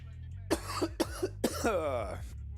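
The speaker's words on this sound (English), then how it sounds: "There's no reason why I'm coughing." A few sharp coughs close to the mic, then a rough throat-clearing rasp, over a steady low hum.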